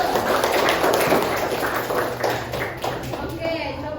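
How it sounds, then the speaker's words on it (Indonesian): Classroom clapping for a student during a group discussion lesson, a short burst of scattered hand claps that thins out, with voices talking over it. "Oke, tepuk tangan untuk Syahrul."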